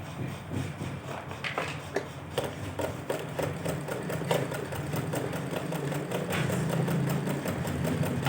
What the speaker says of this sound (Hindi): चलिए बड़ी सिलाई लगाते हैं, देखने के लिए तैयार हो जाएगी।